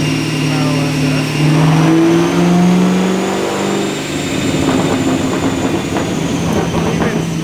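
A 2017 Chevrolet Camaro SS V8, otherwise stock with aftermarket AW mufflers, rumbling loudly up close, swelling in a rev around two seconds in before settling to a rough, throaty burble.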